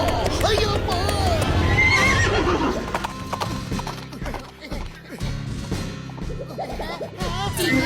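A horse neighs loudly and gallops with rapid hoof clatter during a chase, alongside crashing thuds and shouting voices.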